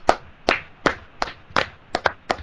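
Sparse hand claps for a round of applause at a comedy show, about eight sharp, evenly spaced claps, close and fairly loud, with no voices.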